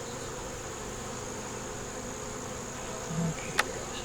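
Honey bees hum steadily at a hive while repairing wax moth damage, a close, continuous drone with a faint clatter near the end.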